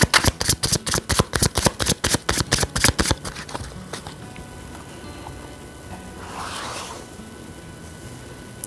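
Tarot cards riffled and shuffled in a fast run of crisp, rhythmic flutters for about three seconds, then quieter soft slides and a brief rustle as a card is drawn, close up with no talking.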